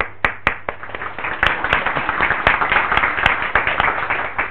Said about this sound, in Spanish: Exacto, un aplauso.